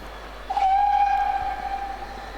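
A steam locomotive whistle at Didcot Railway Centre gives one long, clear, steady blast lasting over a second and then fades into quiet background rumble.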